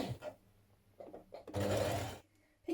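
A sewing machine stitches a folded strap with a 1 cm seam, a faint short whirring burst after a few soft clicks and handling sounds, quiet and close.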